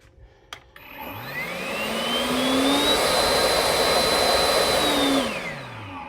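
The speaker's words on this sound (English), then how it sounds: "So definitely you could tell the difference when you push the turbo button." A Ryobi leaf blower switched to turbo, its whine rising in pitch to a loud, steady high rush of air and motor, then winding back down near the end; close and alone.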